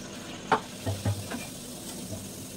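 Luchi frying in hot oil, a soft steady sizzle with a few brief bubbling pops as the dough hits and puffs, fairly quiet with no talking.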